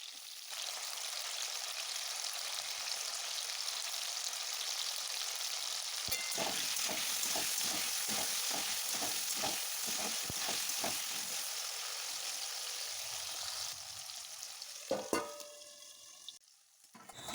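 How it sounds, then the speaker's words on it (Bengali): Potatoes frying in plenty of oil in a wok with salt and turmeric, a continuous loud sizzle and crackle with a run of rhythmic spattering pops in the middle and a few clinks near the end. "এরপর কড়াইয়ে আরও বেশ কিছুটা তেল দিয়ে আমি আলুগুলো ভেজে নেব"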